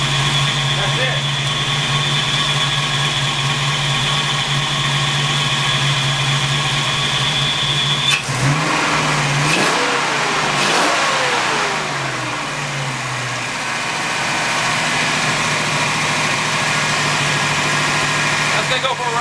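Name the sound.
1986 Ford Mustang GT engine running and revving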